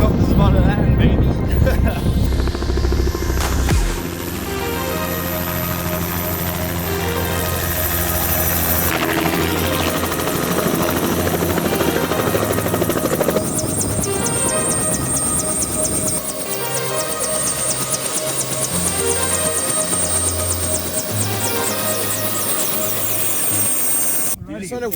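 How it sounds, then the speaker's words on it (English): Helicopter comes in to land near a supercar shoot, a loud continuous rotor thump and turbine whine running throughout while people talk close by. "Helicopter's about to land"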